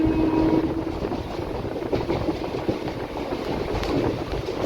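An intercity express train runs through a station without stopping, heard from on board as a steady, moderately loud rumble with faint rhythmic clatter of the wheels.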